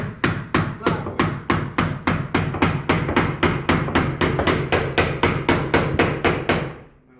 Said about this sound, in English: Let's see if we can hammer this in sideways.